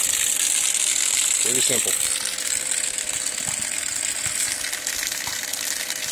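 Electric bilge pump running in a canoe, pumping water out with a steady gushing, rushing hiss throughout, someone speaking briefly over it.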